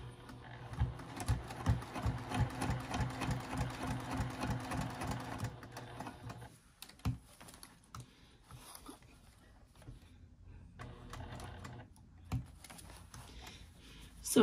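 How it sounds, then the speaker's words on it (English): A sewing machine runs a long basting stitch at a fast, even chatter for several seconds, then stops, followed by quieter handling noises and brief bursts of stitching. "At 1/8 inch seam allowance and just a basting stitch."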